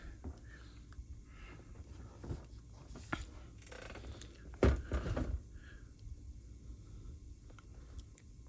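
Stuffing paper crinkles and rustles as it is pulled from inside an Air Jordan 4 Wet Cement sneaker, soft close scrapes and crackles with a louder burst of rustling toward the middle.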